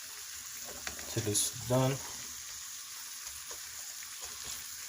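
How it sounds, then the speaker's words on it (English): An egg fries in a pan for a Jamaican-style breakfast, giving a soft steady sizzle under a brief stretch of nearby speech. "I'm gonna let the egg fry"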